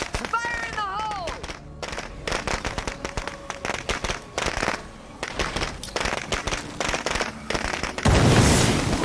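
A grenade goes off in State of Decay 2 near the end: a loud, broad burst with a rumbling tail, following a stretch of game noise, clatter and a voice at the start.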